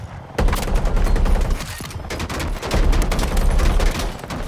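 Missile launch and blasts from a helicopter's Hellfire in Battlefield 6, a dense, continuous roar of gunfire-like bursts and booms filling the whole stretch, loud and close, with brief dips and swells.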